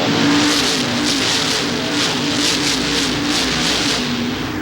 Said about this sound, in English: We have just gone green again on lap number 85, and the NASCAR Modified Tour race continues from Martinsville